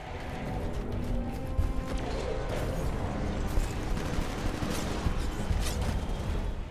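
Dense, rapid gunfire from the video game Titanfall rattles on continuously at close range, with mechanical clatter and occasional heavier impacts mixed into a busy battle.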